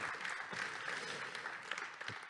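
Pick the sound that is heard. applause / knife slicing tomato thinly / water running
applause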